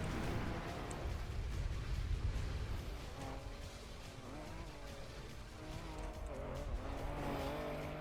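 A racing car in Trackmania drives continuously, its engine droning steadily with tire squeal and skidding mixed in across the stretch, loud and close with no voices.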